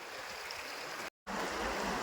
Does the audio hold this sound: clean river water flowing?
yes